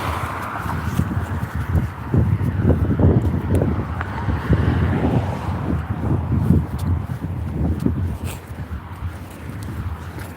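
Wind buffets an outdoor microphone with uneven low rumbling gusts, steady and fairly loud throughout with no talking.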